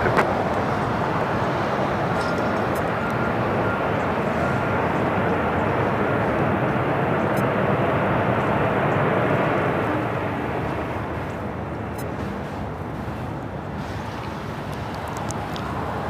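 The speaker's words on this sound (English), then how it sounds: "The 777 now on the move on Alpha." A Boeing 777 airliner taxiing at Los Angeles International Airport gives a steady, broad jet-engine roar from a moderate distance, easing slightly in the last few seconds, with no talk.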